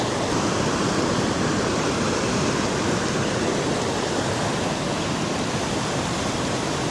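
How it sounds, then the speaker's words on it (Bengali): Water rushing over rocks in a stream below a waterfall in hilly country, a steady, loud, broadband roar that stays even and close for the whole stretch with no voices. "মানে এই ভেতরের দিকে পাথরের উপর দিয়ে এই সাইড দিয়ে জল যাচ্ছে"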